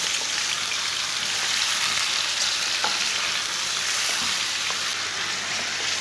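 One kilogram of goat meat fries in hot oil in a village-style kitchen, giving a continuous, dense, hissing sizzle with faint crackles that holds steady throughout, loud and close with no talking.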